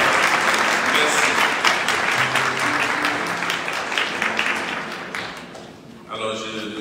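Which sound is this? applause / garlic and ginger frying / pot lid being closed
applause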